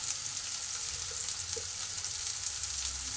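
Chunks of potato and drumstick (moringa) pods, seasoned with salt and turmeric, fry in hot oil in a pan, giving a steady, close, even sizzle throughout with no talking.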